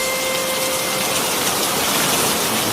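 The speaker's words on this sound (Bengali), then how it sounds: "এ বৃষ্টি থামার মতন বৃষ্টি নয়।" Heavy rain pours in a Nut Boltu cartoon, a dense, steady rushing roar that stays loud and even throughout with no voices.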